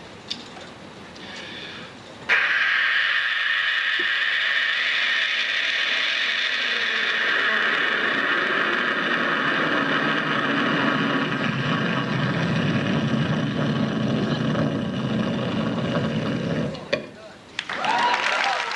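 A voice imitates a jet landing at an airport, a loud sustained roar lasting about fifteen seconds that builds suddenly, holds steady and cuts off near the end.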